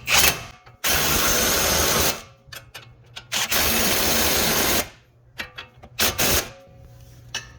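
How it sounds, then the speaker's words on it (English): A power tool tightens bolts on the front shock of a 2007 Honda Odyssey, with two loud, close bursts of whirring and rattling separated by shorter clicks and handling noises. "Then we're gonna go ahead and tighten down these two bolts."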